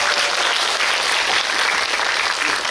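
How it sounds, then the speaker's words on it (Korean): A packed cinema audience at a film screening with director talk claps in a thick, continuous burst, steady and bright throughout with no speech. "박수 한번 부탁드리겠습니다."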